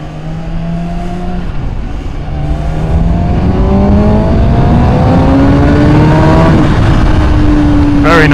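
A 2013 Kawasaki Ninja ZX6R 636 motorcycle accelerating hard in third gear, engine pitch climbing steadily over several seconds under heavy wind rush, close and loud, with a brief sharp noise near the end.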